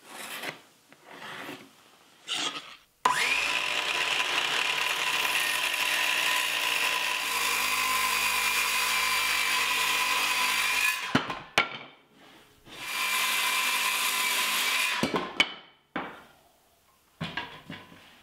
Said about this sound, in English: I'll cut this angle using the table saw